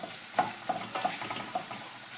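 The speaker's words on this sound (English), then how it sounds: "Right, give that a good stir." Spoon stirring a beef casserole in a pot, a few light clinks and scrapes against the pot over a faint soft bubbling, close and brief, no talking.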